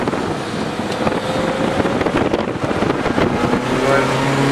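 A race car's engine drones loudly from inside the car on a track straightaway under heavy wind rush, the pitch climbing as a Subaru race car passes.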